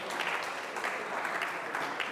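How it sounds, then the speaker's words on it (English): Audience at a Barcamp Koforidua 2024 panel discussion clapping, a dense, even patter of many hands that carries on steadily through the moment, moderately loud in a hall. "Big round of applause for Selo."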